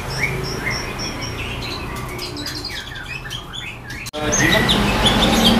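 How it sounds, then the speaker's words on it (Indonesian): A white-rumped shama (murai batu) sings in repeated bright whistled phrases, close and clear over steady background noise, with a short break before the song resumes. "Oke, di sini ada burung murai batu MH ya."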